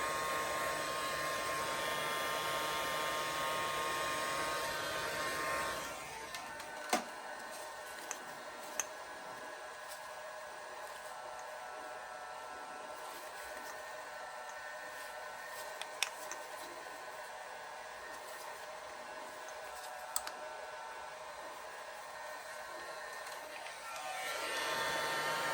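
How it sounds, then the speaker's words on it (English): A heat gun blows steady hot air onto the carburetor of a 1979 Honda Twinstar motorcycle, a constant loud rushing whir with a few faint ticks and clicks from the workshop underneath. "Obviously don't want to hold the heat gun too close for too long"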